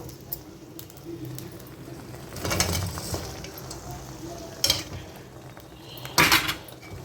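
Fried chicken pieces dropped into masala in hot peanut oil for chicken pickle: a few clattering knocks of utensils against a pan, with faint background noise and birds cooing, no sustained sizzle.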